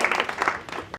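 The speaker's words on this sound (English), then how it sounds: "can we have a round of applause for the panelists?" Audience applause for panelists at the close of an international research collaboration conference panel, a dense burst of clapping lasting about a second before cutting off abruptly.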